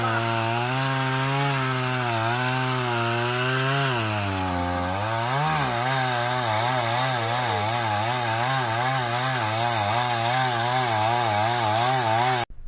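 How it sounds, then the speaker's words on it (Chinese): A chainsaw runs continuously and loud, its engine pitch wavering and dipping as it cuts through a fallen tree blocking a mountain road after a storm, with no talk over it. "村民摕着电锯"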